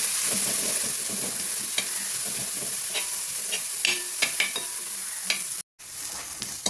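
Shallots stir-fried in a pan for a country-style duck roast, with a steady close sizzle and repeated scraping stirs, broken by a brief silent gap near the end.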